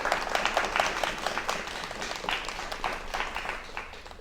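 A studio audience applauds a group of successful UPSC exam students with lively, fairly close clapping, individual claps audible, gradually tapering off.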